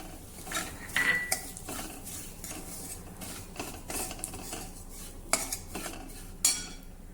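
White sesame seeds, about a quarter cup, tipped into a pan of browned onion for Nagpur-style sambar vadi filling and stirred, giving soft scraping clinks of a spoon against metal with a faint background sizzle.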